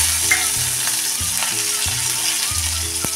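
Crushed garlic, green chili and curry leaves sautéing in a pan, a steady loud sizzle with periodic stirring scrapes, no voices.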